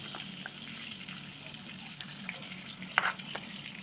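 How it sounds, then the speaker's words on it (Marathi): Blended gravy for egg curry frying in two spoons of hot butter gives a steady soft sizzle throughout, with a sharper spatter burst near the end and faint stirring scrapes. "आता बटर थोडं गरम झालेलं आहे याच्यात आपण ती मगाशी मिक्सरला केलेली ग्रेव्ही घालून घेऊया"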